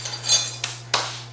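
A utensil scrapes and clinks against a bowl while flour, sugar, cinnamon, salt, baking powder and baking soda are stirred together for a zucchini cake batter, a few close taps and scrapes over a steady hum.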